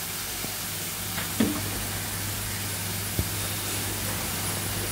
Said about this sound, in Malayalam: വീണ്ടും നമുക്ക് ഇളക്കാം.